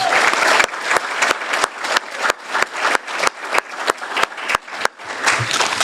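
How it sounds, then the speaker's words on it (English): Loud applause from a crowd at a Kiwanis 4-H speech winners event, dense and sustained, with brief dips as clapping swells and fades over several seconds. "give Easter Seals a big round of applause"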